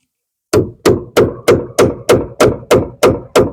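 Ten sharp, evenly spaced hammer strikes ring out after a short silence, loud and close, each tap on a small nail at an apiary decaying quickly before the next.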